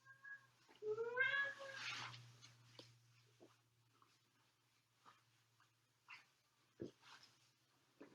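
A cat lets out a drawn-out, rising meow, followed by quieter scattered bumps and a few short faint cries in a quiet room.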